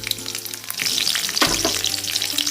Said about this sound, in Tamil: இப்போ பேனில் எண்ணெய் சூடாயிடுச்சுங்க. கடுகு, கடலைப்பருப்பு, உளுத்தப்பருப்பு போட்டுக்கோங்க.